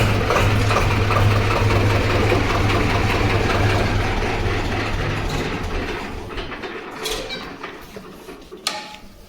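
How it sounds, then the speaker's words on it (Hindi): A Swaraj 724 tractor engine runs in a steady, close mechanical rumble with a low throbbing pulse, gradually easing and thinning toward the end. "वो ट्रैक्टर की आवाज़ कैसी लगी?"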